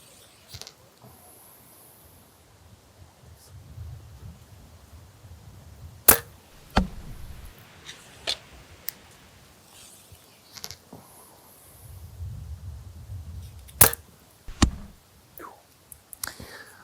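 Arrows loosed from a Hoyt Alpha AX-2 29 compound bow outdoors, heard as a few sharp snapping releases and thuds spaced several seconds apart, with low rumbling wind noise between them and no talk.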